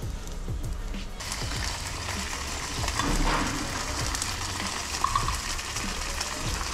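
Oil spits and sizzles steadily in a frying pan at close range, a continuous crackling hiss with occasional pops.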